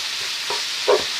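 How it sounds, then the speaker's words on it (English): Italian sausage meat seasoned with fennel seeds browns in a pan while being stirred, making a soft, steady sizzle broken by a couple of brief scraping stirs. "I'm just going to go ahead and just continue stirring this up and cooking this until it is all the way brown."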